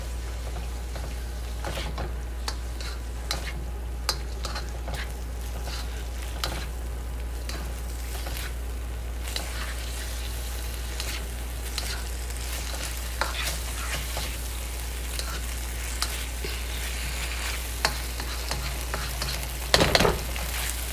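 Szechuan-style green beans stir-fried in a pan, a steady sizzle running throughout with scattered clicks of stirring and a louder scrape near the end, no voices.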